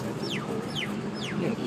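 Three quick descending chirps from a bird call out at Ocean Park Hong Kong, each a short falling whistle. They sit over a steady low hum of outdoor background noise.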